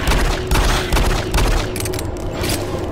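Pistol gunfire in the video game Doom 3 sounds as a string of loud, booming shots at irregular intervals, layered over dense game effects and rumble with no pause.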